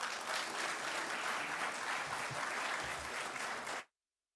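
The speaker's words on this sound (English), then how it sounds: "I hope you feel the same way too, by your applause, to welcome to the stage Mr. Kweku Jelani." A gala audience at a media awards ceremony applauds as a trumpeter is welcomed onto the stage, a dense, even wash of clapping that holds steady for several seconds before cutting off abruptly.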